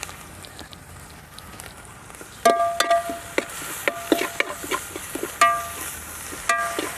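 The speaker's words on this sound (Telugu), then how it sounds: "1 టేబుల్ స్పూన్ అల్లం వెల్లుల్లి పేస్ట్ని వేసుకుని పచ్చివాసన పోయే వరకు వేగనివ్వాలి" Ginger garlic paste frying with onion paste in a pan, a soft steady sizzle with sharp scraping clicks as a spoon stirs, starting after a quiet moment and continuing close and moderately loud.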